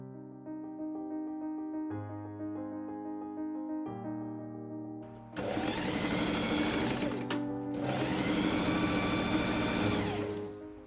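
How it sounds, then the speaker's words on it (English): A sewing machine stitches the shoulder seams of a Victorian crimson teagown, its motor whirring in steady bursts, a softer run first and then two louder, sustained passes with a brief pause between, close and alone without talk. "I machine sew the shoulders up."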